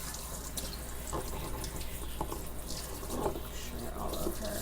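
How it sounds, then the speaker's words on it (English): Water runs steadily from a tap while a 10-year-old dog is rinsed in a bath, continuous close splashing and spraying with a few brief spatters. "Now she just gets rinsed off."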